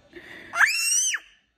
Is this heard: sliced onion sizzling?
no